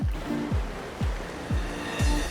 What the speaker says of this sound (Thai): มีคลื่นด้วยครับ ไม่ต้องไปทะเลก็มีคลื่นนะครับ